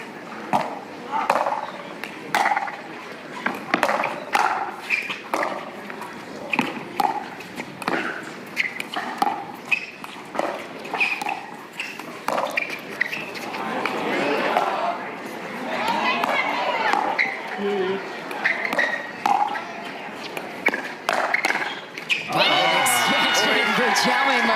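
Pickleball match crowd at the CIBC Atlanta Slam between Johns/Johns and Tyson McGuffin/Martinez Vich, with a broadband cheer swelling around a topspin lob and ball pops and chatter scattered throughout before a loud roar near the end.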